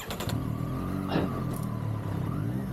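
Triumph Street Triple RS three-cylinder motorcycle engine heard from the rider's position, a steady engine note with a short rise in revs midway, loud and close.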